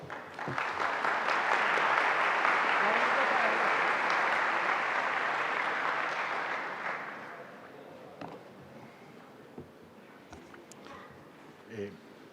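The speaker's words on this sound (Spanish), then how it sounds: "del profesor Basserman, para quien pido un fuerte aplauso." An audience at a university lecture series applauds the guest professor, a loud, sustained round of clapping that fades out after about seven seconds, leaving quiet room noise and a few stray sounds.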